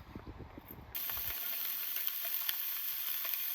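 Food sizzles on a portable outdoor cooker at a campsite, starting abruptly after a second of low knocks and then holding a steady, close, hissing crackle with no talk.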